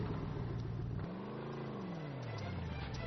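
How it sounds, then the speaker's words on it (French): A wheeled vehicle starts up a steep, thick-snow slope, its engine revving up and then easing back in one smooth sweep over a steady close rumble. "Il démarra la voiture."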